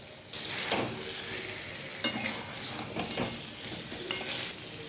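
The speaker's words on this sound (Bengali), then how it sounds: "ভেজে রাখা ওল চিংড়ি মাছ আলু সব একসঙ্গে দিয়ে দিচ্ছি এবং মশলার সঙ্গে একটু কষিয়ে নিচ্ছি" Elephant foot yam, prawns and potatoes, already fried, sauté with spices in a pan: a steady close sizzle with stirring scrapes throughout and a few sharper clinks of the spoon.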